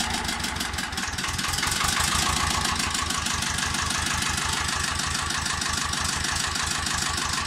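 A 335 export-version engine, flushed with kerosene and started after fifteen years, idles with a steady, rough, rapid knocking chug, loud and close throughout.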